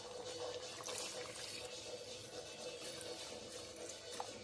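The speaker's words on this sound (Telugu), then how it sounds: "దీనికి సరిపడా వాటర్ వేసుకుందాం" Water pours steadily into a pot of marinated mutton being cooked the old-fashioned way, a faint continuous splashing trickle with no talk.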